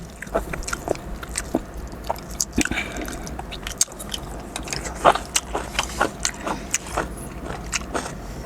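Close-up chewing and biting of papaya salad with pork, wet crunchy bites and smacking in an irregular rhythm over a soft background, with no talking.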